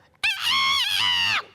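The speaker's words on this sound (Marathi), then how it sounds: "तो कोंबडा आरवायचाच." A rooster crows once, a loud, close, drawn-out cock-a-doodle-doo with a brief dip in the middle, alone with no voices.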